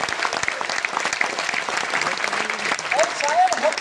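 An audience at a business seminar claps steadily, a dense roomful of hands, while a voice speaks over part of it near the end.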